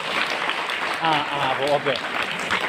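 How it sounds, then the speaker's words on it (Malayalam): An audience gives a brief round of clapping for a child at a religious question-and-answer session, heard under a man's speech. "ഈ കുട്ടിക്ക് ഒരു കയ്യടി കൊടുത്താലേ നമുക്ക്"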